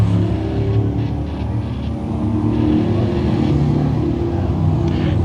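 Race cars running a heat race at Can-Am Speedway, a loud continuous engine roar with rumbling low tones and shifting revs as the pack circles the track.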